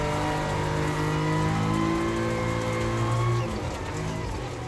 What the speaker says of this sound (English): The two turbocharged 3-cylinder engines with all-wheel drive and sequential 5-speed gearboxes sound quite mechanical and deep.